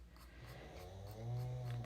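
Someone nearby snores faintly in a quiet room, one slow, drawn-out rumbling breath that swells toward its end, with no other sound over it.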